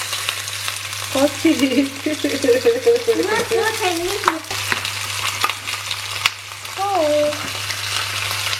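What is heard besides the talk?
stir-frying kebab filling in a pan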